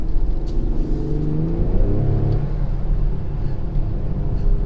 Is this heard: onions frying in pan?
no